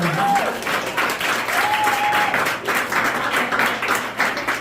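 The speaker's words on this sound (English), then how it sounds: "That deserves an applause." Audience applause follows a comedy joke, steady and sustained clapping from a crowd, with brief voices and whistle-like tones poking through the dense noise.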